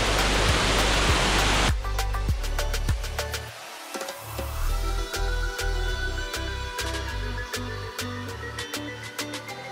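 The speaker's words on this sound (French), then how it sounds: "Voilà, les cascades de Pimbock." Pimbock waterfalls in the Pai valley: a loud, steady broadband rush of falling water, dense at the start, then continuing as a churning roar under scattered crackling and clicking sounds.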